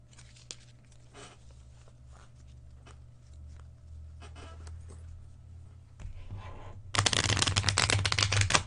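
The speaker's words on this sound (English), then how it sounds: "That's the first time I've shuffled a deck of cards in probably" A deck of playing cards is shuffled close by, first as scattered soft flicks and riffles, then a loud, dense burst of rapid card-riffling in the last two seconds.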